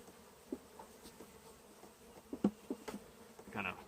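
Honeybees from a package being installed into a hive, a steady close buzzing swarm with a few louder knocks and bumps of handling scattered through.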